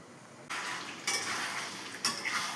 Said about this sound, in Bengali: তো আমি এটা এখন চাপা দিয়ে দেবো।